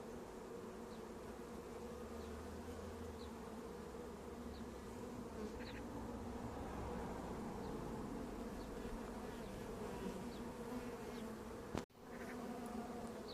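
Honey bees hum around a hive as they draw out new comb, a dense, continuous buzz of many insects heard close by with individual bees passing, broken near the end by a brief sharp knock.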